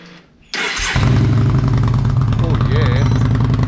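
A Yamaha Bolt motorcycle fitted with a Delkevic exhaust fires up after a brief starter crank, settling into a loud, deep, throbbing idle close by, with a small rev partway through.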